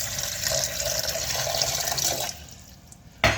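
Water pours steadily from a jug into a cooking pot set on the stove to boil, a continuous close splashing fill that stops partway through, followed by a brief clunk.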